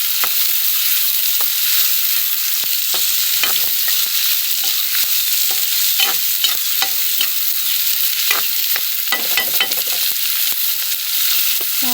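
Onions fry in a pan with a loud, constant sizzle while a spatula stirs them, adding frequent scraping and tapping strokes up close.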